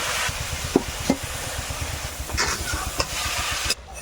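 Cabbage, potato and fried prawns stirred together in a frying pan: soft sizzling under repeated spatula scrapes and a few sharper knocks against the pan, with a low background rumble.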